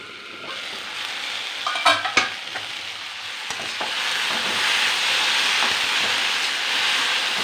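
Okra frying in a pan with a steady sizzle, broken early by a few sharp scrapes and clinks of stirring, then a denser, even hiss building to the end; no one speaks.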